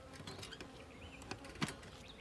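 Honey bees hum faintly and steadily around a beehive entrance during an inspection, with a soft, low buzz and a few light bumps, no voices.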